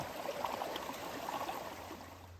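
A small brook of clear water flows steadily in a continuous soft rushing babble, faint and unbroken, with no voices.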